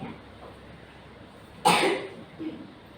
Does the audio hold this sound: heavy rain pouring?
no